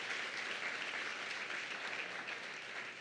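Brief, steady applause from a church worship audience, heard faintly and evenly without a break.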